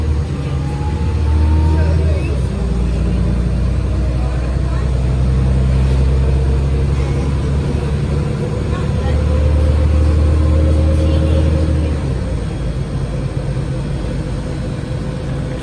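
Cummins engine of a Nova Bus LFS city bus in Montreal drones steadily from the back during a ride, a low continuous rumble with shifting tones as it accelerates, heard from inside the cabin.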